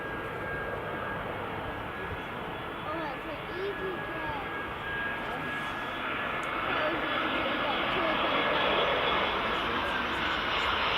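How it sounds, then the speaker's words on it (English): An EasyJet airliner arriving on runway 24 at Edinburgh Airport makes a loud, continuous engine roar that swells gradually as it comes in, with a voice talking over it. "Right, next arrival. Just coming in now. Another EasyJet coming in."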